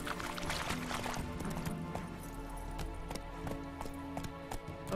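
A horse's hooves clip-clop at a walking rhythm on the ground in The Witcher 3, with a steady musical and ambient bed underneath. A brief burst of noise comes first, and there is no talk.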